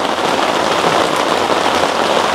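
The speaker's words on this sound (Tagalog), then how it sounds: "Tingnan niyo, grabe yung ulan" Heavy rain pours down steadily, a dense continuous hiss of drops drumming on a surface with no voices.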